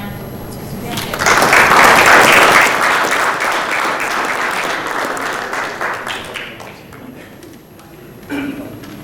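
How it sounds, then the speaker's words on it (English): Audience applause swells in loudly after about a second, holds as dense steady clapping, then gradually thins and fades, with a brief burst near the end. "if we could give them a round of applause"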